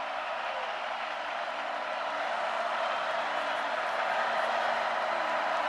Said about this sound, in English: Crowd making some noise on this 3rd down